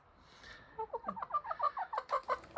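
Backyard chickens in a cold winter coop give a rapid run of about a dozen short, nasal clucks that build in pace, close by and clear above a quiet background.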